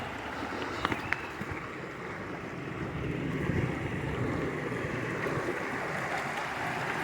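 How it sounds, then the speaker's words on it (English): Water flows steadily through a canal lock outdoors, a continuous rushing wash with some wind noise and a few small knocks early on. "This water's flowing in here. It's flowing at a pretty good rate of speed."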